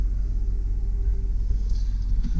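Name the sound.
2005 Chevy Silverado 2500 HD pickup truck engine running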